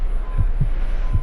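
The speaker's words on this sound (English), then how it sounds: "You can hear the sounds of a heartbeat monitor and see the faint overlay of an EKG on the screen" Heartbeat monitor effect in the Driver San Francisco video game, three soft low thumps at a steady pulse over a constant hum with a faint high steady tone.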